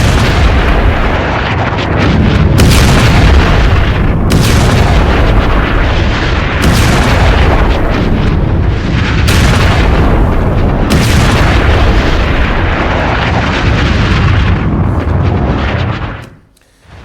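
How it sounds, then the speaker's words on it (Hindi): Phosphorus bomb blasts from an Israeli strike on a Hezbollah position roar continuously as a loud, dense rumble, with several heavier booms bursting through before the sound cuts out abruptly near the end. "फास्फोरस बम दाग दिया है इजराइल ने।"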